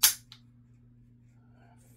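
An AR-15 rifle's hammer drops with one sharp metallic snap during a dry-fire function check, followed by a fainter click, close and alone over a low hum.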